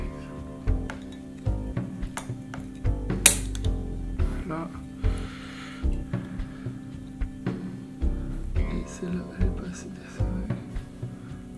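A guitar string is slackened at the tuning peg, with repeated small ratcheting clicks and creaks from the tuning gear in short bursts, close up, while a voice talks over it.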